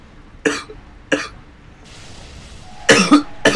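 Several sharp coughs from a sick person, two isolated ones early on, then a quick burst of two or three coughs near the end, loud and close with quiet room tone between.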